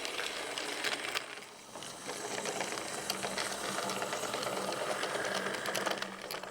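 A model freight locomotive runs steadily past a cardboard goods station and village shop on a Soviet-themed layout, giving a continuous mechanical whirr and rattle with clicking wheel noise throughout.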